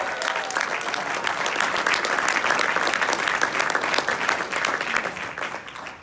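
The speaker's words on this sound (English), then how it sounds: "Give yourselves a round of applause." Audience at a motivational speaking event breaks into loud, sustained applause, dense clapping filling the room steadily for several seconds before starting to fade.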